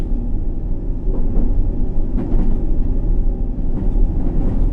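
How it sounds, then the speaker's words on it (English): A District line subway train from the video game World of Subways 3 rumbling past, a loud continuous low roar with faint rail clatter, steady throughout, no talking. "The next trains are coming. District and Circle. First district line."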